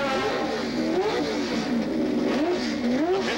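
A 1965 Indianapolis 500 race car engine drones loud and close, its pitch swinging up and down in repeated rev surges as it runs steadily without pause.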